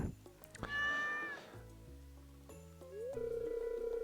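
A cat in the video game Stardew Valley gives a clear, drawn-out meow near the start, followed by soft in-game music tones and background sounds.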